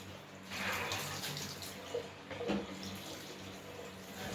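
Water running from a kitchen tap while raw pork is rinsed, a steady, fairly quiet splashing flow with a couple of small splashes as the meat is handled.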